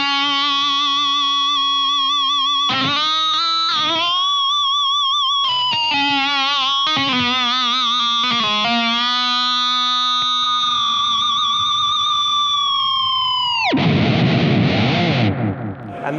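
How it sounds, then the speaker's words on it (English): An electric guitar fitted with a Sustainiac pickup holds long sustained notes that bloom into a fifth harmonic, with distortion and chorus-like shimmer, several picked phrases followed by a long ringing hold and a noisy burst at the end. "this switch here is a three-way switch that makes the Sustainiac output a harmonic, a fifth harmonic like you just heard"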